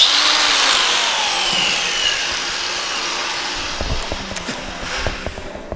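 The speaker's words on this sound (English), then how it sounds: "we've just started polishing the first wheel" A power polisher works on a split wheel for a Toyota Supra, a loud steady whirring hiss with a sweeping high whine that slowly falls, then rubbing scuffs and light knocks toward the end.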